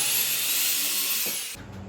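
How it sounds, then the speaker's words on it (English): A power drill pre-drills marked holes for kayak storage hooks into a ceiling stud, a steady close whine that lasts about a second and a half and then cuts off. "I will pre-drill the holes that I've marked using the hooks"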